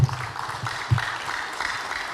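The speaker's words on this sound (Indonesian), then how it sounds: "kita beri aplaus buat Bu Dian" Audience applause for a speaker at an Indonesian stock market investment talk, a short burst of fairly close clapping from a modest crowd with a couple of low thumps.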